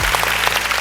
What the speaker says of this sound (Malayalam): വലിയൊരു കൈയടിയൊക്കെ എവിടെ?